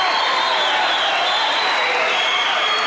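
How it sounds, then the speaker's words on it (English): Crowd noise at a high school boys basketball game between Minneapolis, Kansas and Belleville swells as a broad, steady roar of cheering and clapping, continuous and fairly loud throughout with no clear break. "Listen to the crowd"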